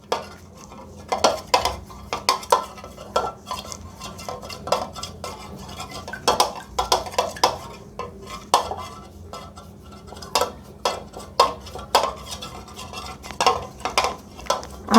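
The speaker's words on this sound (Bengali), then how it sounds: "আর ফোম বানানোর জন্য আমি এরকম একটি হ্যান্ডউইচ ইউজ করব।" A hand whisk beats eggs into foam in a bowl, producing quick, rhythmic metallic clinks and scrapes that repeat in bursts at close range for the whole stretch.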